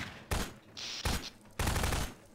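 Three loud bursts of gunfire in Garry's Mod, each lasting a fraction of a second with brief pauses between, plus a short higher-pitched electronic tone in one gap and no talking.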